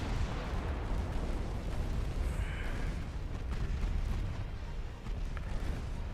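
Heavy naval artillery from Ultimate Admiral Dreadnoughts pounds a light cruiser, a continuous low rumbling barrage of distant booms and shell bursts rolling over one another at a steady, dense pace.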